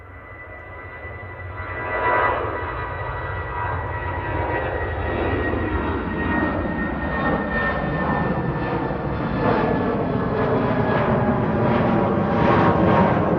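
A Eurowings Airbus A319 jet departs at night from Manchester Airport, a loud, steady engine roar that swells and holds across the whole stretch without any talking.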